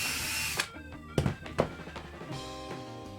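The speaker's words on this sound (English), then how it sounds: "Then it drills a perfect hole" A power drill bores a pilot hole for a brad nail during a 2x4 woodworking build, heard as a few short, sharp whirring bursts close by over a low background.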